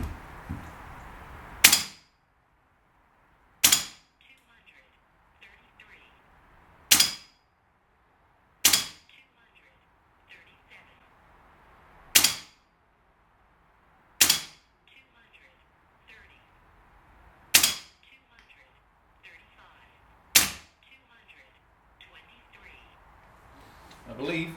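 A CO2 air pistol is fired on semi-auto over a chronograph outdoors, eight sharp, loud cracks spaced a few seconds apart, with birds chirping faintly in between.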